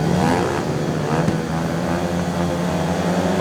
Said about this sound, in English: Bikes are revving nicely,